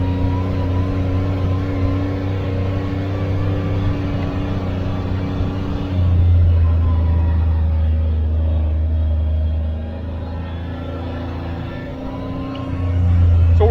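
A 2022 Kawasaki Mule Pro FX LE UTV engine pulling in low gear on a steep trail: a steady, loud low drone that swells around the middle, eases for a few seconds, then rises again at the end.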